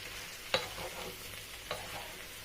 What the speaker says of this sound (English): I'm gonna mix everything together.